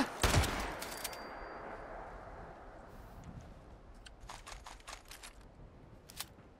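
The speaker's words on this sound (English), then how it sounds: "where the fluff are those shots coming?" Fallout 76 gunfire: one sharp crack opens, then after a quiet gap comes a scattered run of faint, distant shots, fairly soft overall.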